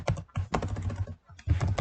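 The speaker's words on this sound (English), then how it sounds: "You just type in the accountant's name." Rapid clatter of keys on a computer keyboard while an email address is typed into a QuickBooks account form, bursts of close clicks separated by a short pause, no talking.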